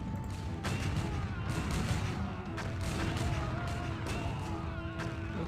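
Cannon fire and gunfire in a battle in the video game Empire Earth, a dense continuous barrage of booms and crackling shots with sharp repeated impacts, loud throughout.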